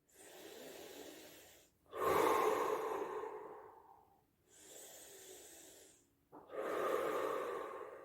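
Slow, deep belly breathing up close during a Pilates exercise: two full cycles of long, airy inhales followed by long, heavy exhales, with brief pauses between them.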